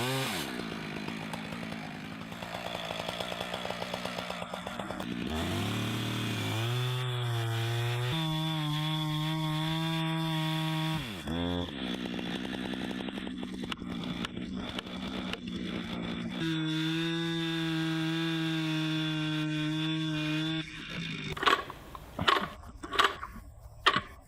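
A chainsaw cutting into a tree, its engine revving up and down in long sustained pulls, close and loud, ending with a few sputtering bursts.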